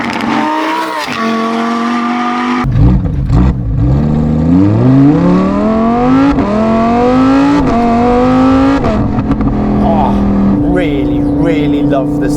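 A Lamborghini Huracan Tecnica, mid-engined, fitted with a Novitec exhaust, revs hard close by: a short burst, then long rising sweeps of engine pitch with brief lifts between pulls, loud and continuous.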